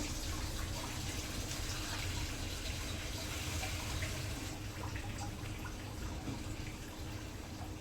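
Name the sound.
water poured into pan of jackfruit and chicken curry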